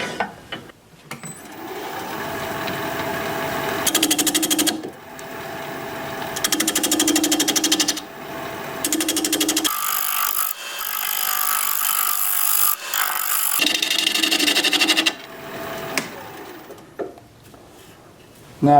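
A wooden bowl is sanded as it spins on a wood lathe: a steady motor whir with bursts of abrasive rasping that start and stop several times, close by, with some quieter stretches between.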